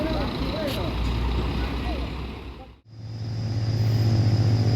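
A Simpatistar intercity bus bound for Medan pulls out of a bus terminal, its engine rumbling low with passing traffic noise, while a person talks over it.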